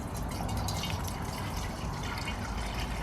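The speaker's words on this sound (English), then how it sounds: "I'm going to pour some of this grape juice into" Grape juice poured from a bottle into a gallon jug for homemade wine, a steady close-up gurgle and trickle of liquid filling the container, with no voices.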